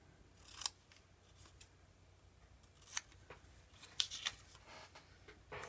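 Scissors snip paper letters in a few quiet, crisp cuts spaced a second or so apart, close up in a still room.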